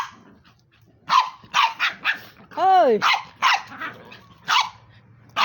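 Several loud, close dog barks in quick bursts, with a brief whining yelp in the middle and a person calling out once.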